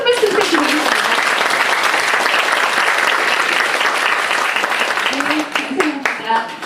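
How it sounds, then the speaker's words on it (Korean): A seminar audience gives loud, dense, sustained applause that thins out near the end as a voice begins speaking. "여러분 다시 한번 큰 박수 부탁드리겠습니다."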